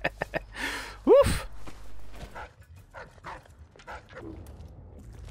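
A dog in the stealth game Dishonored: Death of the Outsider gives a sharp bark, then a rising yelp and a whimper, close by, among scattered clicks and faint game sounds.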